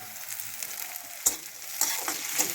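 Onion frying in a pan for egg chop, a steady soft sizzle with a few brief utensil scrapes and stirs, close and fairly quiet, with no talking.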